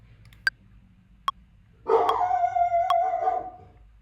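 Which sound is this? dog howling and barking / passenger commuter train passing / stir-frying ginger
dog howling and barking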